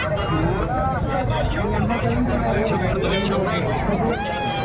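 At the Aryadurga temple fair in Konkan, a dense crowd fills the air with constant close babble of many voices, and a shrill, warbling whistle-like tone cuts in near the end.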